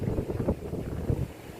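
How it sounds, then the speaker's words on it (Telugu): Cool wind gusting outdoors behind a house, a steady low buffeting rumble against the microphone that swells and eases throughout without a pause. "కొంచెం చల్ల గాలి వస్తుంది సూపర్గా."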